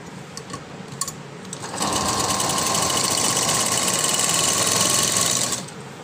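A sewing machine starts up after a few light clicks and runs in a steady, loud, close whirring stitch along the edge of a floral frock's lining for about four seconds before stopping.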